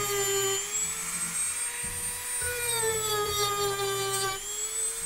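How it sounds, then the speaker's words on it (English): A power sander working wood during drawer building in a home workshop, giving a steady, close motor whine whose pitch drifts slightly as the tool bears down, running unbroken for about five seconds. "Just get a few more, just get it a bit more sanded down."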